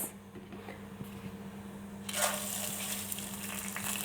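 Rice and toasted orzo stir-fried together in a pan for pilaf, giving a steady dry hiss and crackle that swells louder halfway through as the grains are stirred.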